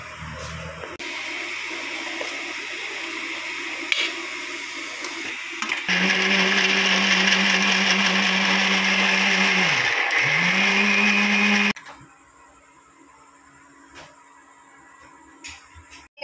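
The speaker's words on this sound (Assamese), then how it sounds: "তেতিয়াহে মই মিক্সাৰ মাৰিব পাৰিম" A kitchen mixer grinder blends cooled fried ingredients for a paneer dish. A low hum comes first, then the motor roars loud and close for several seconds before cutting off into quiet.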